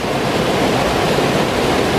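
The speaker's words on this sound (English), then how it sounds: "Should be able to hear the sound of rushing water as it comes over those rocks there" Fast-moving stream water rushes over rocks on a countryside ramble, with a second set of rocks just below, giving a loud, steady, broadband roar throughout with no voices.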